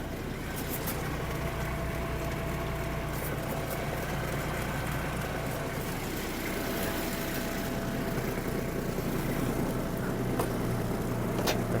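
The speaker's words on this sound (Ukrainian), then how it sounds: "Опускаємо фрезу, щеплення. Перша передача. Давайте покажу роботу." A Kubota GB-20 mini tractor running with its tiller lowered in first gear, giving a steady, continuous low engine drone with little variation, moderately loud and unbroken, with no speech.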